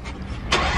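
A Nissan GT-R R35 engine cranks briefly and then catches with a sudden loud roar, close by and alone, settling into a strong rising idle.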